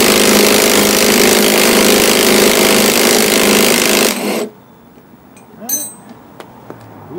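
A Milwaukee M12 3/4 impact tool rattles loudly and continuously while loosening a wheel nut on a lawn thatcher, then stops abruptly, leaving quiet handling noises.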